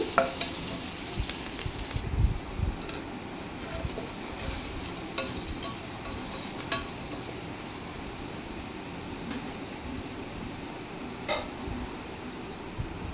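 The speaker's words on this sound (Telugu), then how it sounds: "ఆనియన్ వేయించాలి" Sliced onions fry in oil for Kolkata-style chicken biryani, giving a steady, fairly quiet sizzle with occasional soft stirring clicks throughout.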